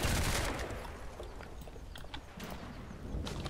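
Gunfire in the tactical war game Combat Mission, with a loud burst of rapid shots at the start, then scattered sharper reports and crackling fire continuing through the rest.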